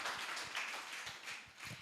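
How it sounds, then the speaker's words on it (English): A round of applause at an export summit, faint and distant, with a soft continuous patter of many hands clapping under a quiet hall ambience. "Please, a round of applause for the MD"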